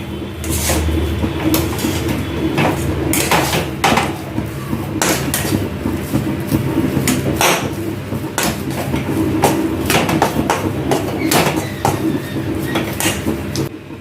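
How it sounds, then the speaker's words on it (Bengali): A spoon scrapes and clanks against a pan as food for a dhokar curry is stirred, giving loud, rhythmic metallic strokes over a constant low sizzle. "এবার ভালো করে নেড়ে চেড়ে নিচ্ছি একটু"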